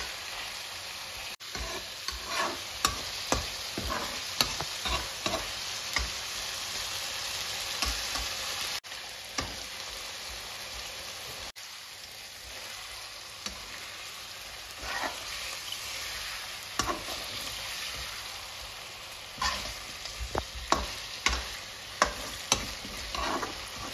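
Chicken fries in a pan and is stirred for a long stretch, a constant sizzle punctuated by frequent sharp spatula clinks and scrapes that cluster more densely toward the end.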